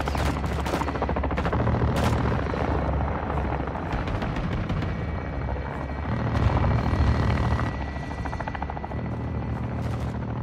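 A helicopter gun run in Call of Duty: Modern Warfare II: a steady rotor drone under bursts of rapid machine-gun fire, loud and continuous throughout, with no talking.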